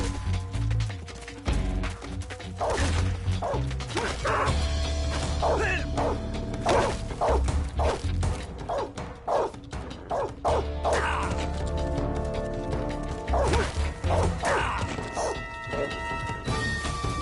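A guard dog in the video game Metal Gear Solid 3 barks again and again, sharp yips scattered through the passage among crashing impacts and mechanical game effects.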